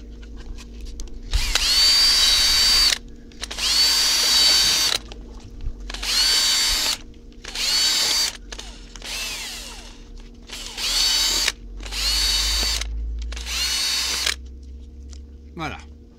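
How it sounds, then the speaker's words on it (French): A power drill bores holes through a plastic jar lid in several loud bursts separated by short pauses, with a steady low hum running underneath throughout. "On va aussi faire des trous dans le couvercle."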